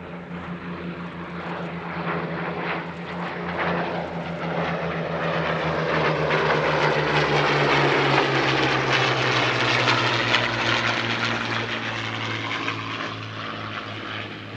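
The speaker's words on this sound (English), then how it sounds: "Another truly excellent two-ship fighter display coming up. This time, it's a pair of Warhawks." Two Merlin-engined P-40 Warhawk fighters fly a display at the Air Legend airshow in Paris-Villaroche, their piston engines droning loudly as they approach, swelling to a roaring peak overhead and then slowly fading away.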